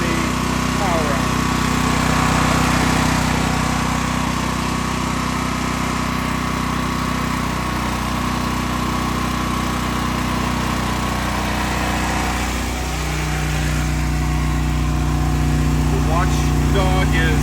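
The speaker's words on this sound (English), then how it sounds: "Back at the generator, let's go ahead and turn the power on." A Westinghouse WGEN9500TFC portable generator runs after being powered on, a loud, steady engine drone with a constant hum and a brief dip in pitch partway through.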